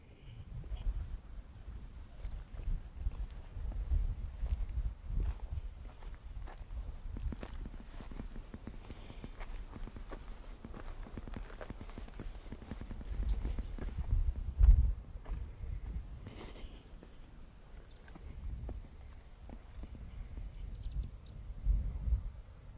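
Footsteps crunch steadily along a cliffside trail at Ragged Point, close and rhythmic over a soft outdoor background, continuing alone without talk.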